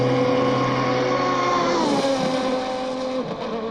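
Loud, continuous race car engines in a racing video game at the Spa circuit roar with high revving tones that shift pitch as gears change, the sound steady and close throughout.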